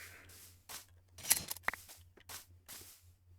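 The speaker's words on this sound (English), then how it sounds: "Might as well shear them again." Two quick snipping clicks of shears shearing a sheep in Minecraft, close and sharp, with soft thumping footsteps and quiet ambience around them.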